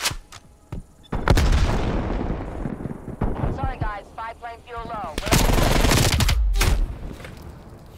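Rapid automatic gunfire and explosive bursts from the Call of Duty Black Ops Cold War video game, in a Hardpoint team deathmatch, sounding loud and close in repeated volleys, with a voice talking between the bursts.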